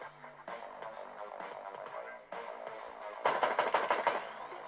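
Gunfire in the video game Code of War, with rapid bursts of automatic shots that build to a louder, denser volley near the end, heard alone without talk.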